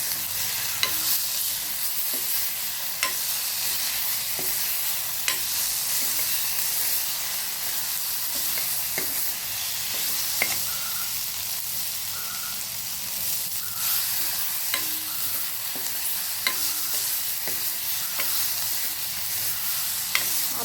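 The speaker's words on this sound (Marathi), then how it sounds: "फ्राय करून घ्यायची" Brinjal (eggplant) pieces fry in a pan with a steady sizzling hiss, while a spatula stirs and scrapes with occasional clicks, close and continuous throughout.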